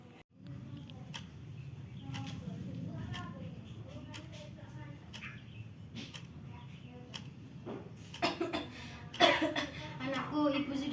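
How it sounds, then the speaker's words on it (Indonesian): A woman in a stage drama coughs repeatedly from an illness, the cough having turned to coughing up blood, with soft background murmur and a few louder sharp sounds near the end. "Tadinya batuk biasa menjadi batuk berdarah"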